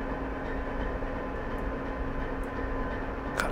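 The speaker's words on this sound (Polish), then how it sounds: "Charakterystyczny dźwięk silnika spalinowego," A BR 232 diesel locomotive engine running in Train Simulator Classic, a steady low droning rumble with a constant hum that stays even and close throughout, with a brief faint click near the end.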